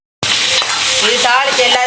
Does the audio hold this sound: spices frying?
yes